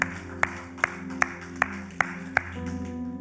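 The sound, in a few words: congregation applause in church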